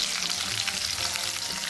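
Spices with garlic, ginger and green chilli sizzle and fry steadily in a pan while being stirred, a close, continuous crackle with no talking.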